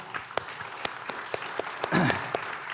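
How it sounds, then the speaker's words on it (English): Scattered hand claps for a panel of BAFTA games award nominees pop at an uneven pace, with a brief murmur partway through; sparse applause rather than a full ovation. "join us please in a round of applause for our wonderful panel"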